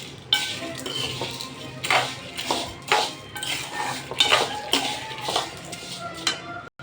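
Urad dal being sautéed and stirred in a hot pan, the spoon scraping and clinking against the metal in a steady series of close, sharp strokes.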